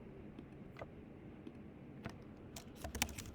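Keys clatter on a computer keyboard in a short burst of scattered, moderately close taps against a quiet room background.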